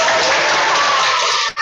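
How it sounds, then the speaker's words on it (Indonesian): A crowd claps steadily for a moment at a Christmas service for teachers and staff, a dense burst of applause that cuts off abruptly. "Tepuk tangan dulu,"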